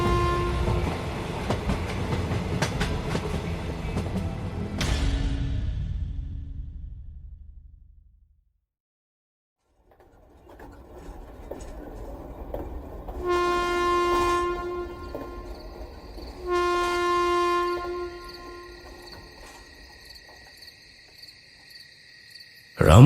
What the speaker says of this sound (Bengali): ট্রেনটা হুইসেল দিয়ে আবার ছেড়ে দিল।